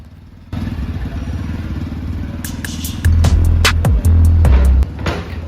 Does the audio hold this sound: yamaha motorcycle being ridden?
yes